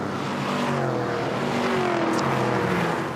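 V8 ute race cars racing at Pukekohe, a continuous loud engine roar with shifting pitch as several cars pass at speed.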